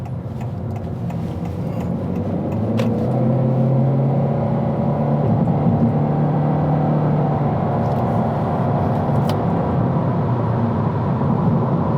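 A 2022 Honda Civic Touring cruises on an open road at night, with a steady low engine and road hum and tire rumble heard from inside the cabin, droning evenly throughout.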